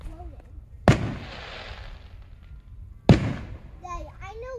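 Fourth of July fireworks show in Beecher, Illinois: two loud booms about two seconds apart, each with a rumbling decay, while someone talks nearby between and after the blasts.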